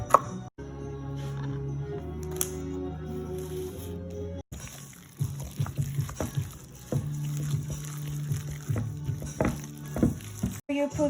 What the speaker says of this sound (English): Cutting some cabbage for our filling